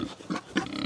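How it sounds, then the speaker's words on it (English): A sow in a farm pen gives a few short, close grunts in quick succession. "This is our sow here."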